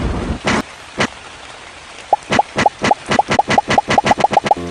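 Cartoon rain effect in an animated Scratch cat episode: sparse drops at first, then a quickening series of regular plopping drops, loud and close, with no voices.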